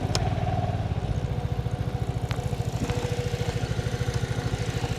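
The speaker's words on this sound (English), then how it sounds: "I can start the bike." Vespa GTS 300 Super scooter, a 2020 model, idling on its main stand after starting, with a steady rapid single-cylinder putter that stays even and fairly close throughout, with no talk over it.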